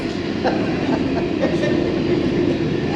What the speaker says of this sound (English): I'll wait for the train, Frank.